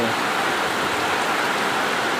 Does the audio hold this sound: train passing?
no